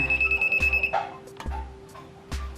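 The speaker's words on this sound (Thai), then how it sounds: "มีเสียงแน่นอน แสดงว่ามีไฟนะครับ ตรงปลั๊กนะครับตรงปลั๊ก เห็นไหมครับได้ยินไหม" A non-contact voltage tester pen held at a live wall outlet gives loud rapid repeating beeps, then broken bursts of beeping.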